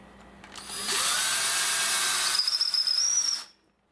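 A power drill with a bit spins up hard during a bifold closet door installation, a loud steady whine lasting about two and a half seconds with a rising whistle near the end, then cutting off abruptly.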